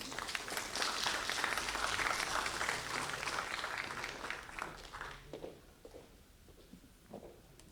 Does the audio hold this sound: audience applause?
yes